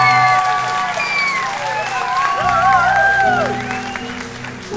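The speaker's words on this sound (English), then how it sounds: "They're probably clapping because it's finally over" Audience clapping and cheering after a stage show, a dense wash of applause mixed with rising and falling tonal cries and whoops that continues steadily throughout.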